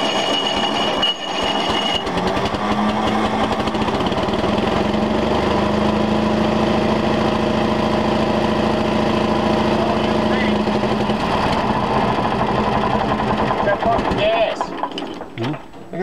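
Engine of the Sawmill Peak road grader catching and settling into a loud, steady, rumbling idle that runs for many seconds before fading near the end, with voices heard faintly over it.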